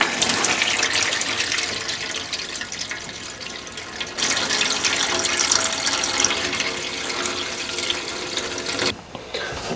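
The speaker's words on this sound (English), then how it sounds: "whenever all the water comes out of this particular pipe, there will be quite a large spit" Water gushing and spitting from a motorhome tap as compressed air drives the last of it out of the pipe, a loud continuous rushing splash that surges, briefly sputters near the end, then resumes.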